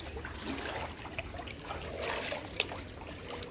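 Rainwater flooding a house courtyard and the road beside it after heavy rain: a steady, faint trickling and lapping of moving water with a small splash, no voices.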